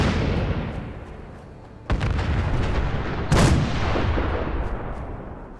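Artillery guns firing in the video game Fallout 4: heavy booming blasts, one sharp report near the middle and another loud one later, over a dense rumbling roar.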